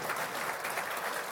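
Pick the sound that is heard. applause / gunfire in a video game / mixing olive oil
applause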